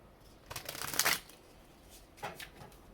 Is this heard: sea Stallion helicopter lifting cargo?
no